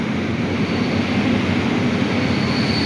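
An EP07 electric locomotive pulling into Kraków Główny station gives a loud, steady rumble with a broad rushing roar that stays constant and close.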